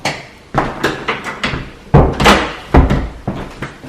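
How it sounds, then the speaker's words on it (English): An old door in a 200-year-old farmhouse closing and latching, a run of loud close wooden thuds and knocks in uneven rhythm, with no talk. "close the door so you can see the cool door lock"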